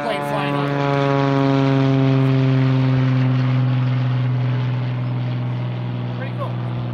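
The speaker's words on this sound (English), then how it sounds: "World War II plane flying on." World War II propeller plane flying low overhead near a private airport, a loud droning engine with strong steady harmonics that swell and slowly fade across the pass.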